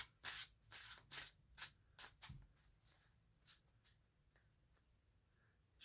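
A tarot card deck is shuffled by hand, giving a series of soft, rapid riffling bursts that grow quieter and sparser, close by and faint, with no speech.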